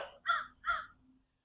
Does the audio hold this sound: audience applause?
no